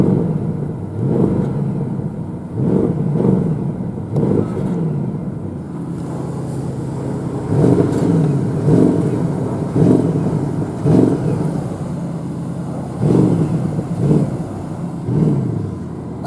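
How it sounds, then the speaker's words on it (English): A Porsche Panamera Turbo S E-Hybrid Sport Turismo engine is blipped in quick, loud rev bursts, several short sharp rises and falls in clusters with idle between, close by and with no talk. "let's give it some quick revs and see how it sounds"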